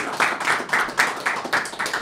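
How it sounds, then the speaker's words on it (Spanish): Guests on a Spanish talk show are cheered with quick, evenly spaced claps, about four per second, close and moderately loud, from what sounds like a small group. "un aplauso también"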